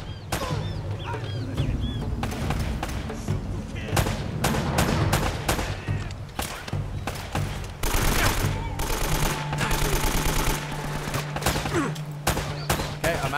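Rapid bursts of AK rifle fire in the action video game Uncharted: Drake's Fortune, loud, repeated volleys of shots cutting through a steady background of game ambience and music.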